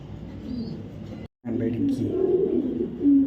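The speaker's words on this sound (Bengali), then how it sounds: "এটি কী ভাই এটি কী এটি কবুতর ভাই" Large beater pigeons coo in low, rolling murmurs close by, broken by a brief silent gap, with someone talking over them.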